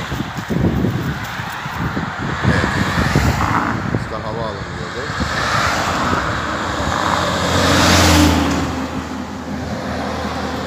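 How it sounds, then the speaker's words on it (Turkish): Steady road traffic, with trucks and cars rumbling past on an airport road in Turkey, a continuous broad wash of engine and tyre noise swelling toward a louder pass near the end, with wind buffeting early on. "Kamyonlar geçiyor, her şey geçiyor."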